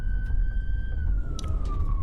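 A police car siren wails steadily during a pursuit, its tone sliding slightly lower toward the end, over a low rumble of traffic or engine noise.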